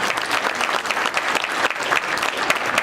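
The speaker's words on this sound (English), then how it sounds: "Let's give it a round of applause for that" Crowd at a school breakfast awards event claps in a dense, continuous burst of applause throughout, fairly close and even in loudness.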